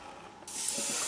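An airbrush begins spraying paint onto a crankbait fishing lure, switching on halfway through as a steady, close, airy hiss.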